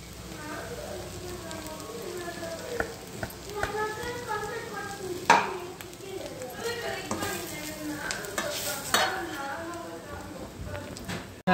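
Capsicum frying in a pan gives a steady crackling sizzle with occasional stirring clatter, moderately close, while a voice talks over much of it.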